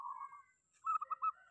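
A zebra dove (perkutut) kept in a small cage gives a brief cooing call, one soft note followed by a quick run of rhythmic, clipped coos, close by and otherwise quiet.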